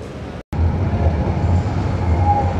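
An electric Solaris bus drives past on a Düsseldorf street, giving a steady, fairly loud rolling hum and road rumble after a brief cut.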